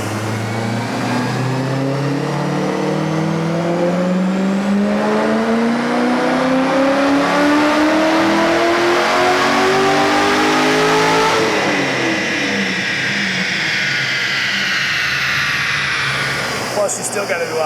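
A supercharged C6 Corvette Z06 roars through a dyno pull, its engine pitch climbing steadily as it revs hard, then dropping and rising again, loud and close throughout.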